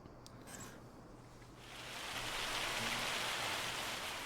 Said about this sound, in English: Got a little bit of rain overnight, it sounds like.